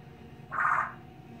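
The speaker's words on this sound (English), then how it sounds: "That's Gracie, all the bird noises you're hearing in the back, that's all the bird" A pet bird inside a flower shop gives a single short, bright squawk that rises and fades within half a second over a quiet room background.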